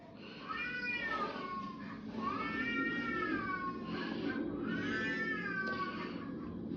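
Long cat-like yowls in a purported ghost recording, three drawn-out rising and falling wails over a hissy background, moderately loud and alone without speech.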